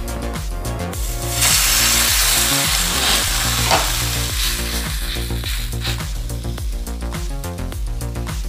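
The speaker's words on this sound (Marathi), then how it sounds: "आता आपण तव्यावर तूप टाकून घेऊया।" Sabudana thalipith fries in ghee on a hot tawa, giving a loud, steady sizzle with scraping and stirring noises throughout.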